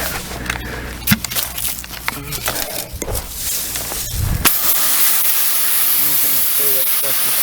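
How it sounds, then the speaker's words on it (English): A pressure washer spraying hard-water stains off a boat hull starts after some clattering and handling sounds, then a loud, steady hiss of water continues without pause to the end. "I'll get the pressure washer and clean it off and show you the difference"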